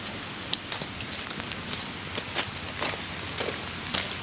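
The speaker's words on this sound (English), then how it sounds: "It's raining, it's pouring" Rain falls steadily on a surface outdoors, forming a dense continuous patter with scattered sharper drop impacts, moderately loud and without voices.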